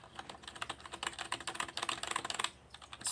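Typing on an RGB computer keyboard with unpainted keys, a quick run of close, crisp key clicks and clacks in an uneven rhythm, ending with a short pause and a couple more presses.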